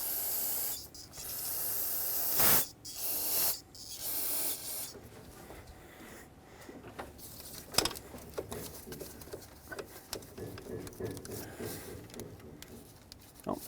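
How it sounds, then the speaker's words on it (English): Aerosol spray cleaner blasted onto engine parts of a 2011-2019 Ford Explorer during knock sensor replacement, several short hissing bursts near the start, then quieter handling clatter and small clicks. "I'll spray these as well."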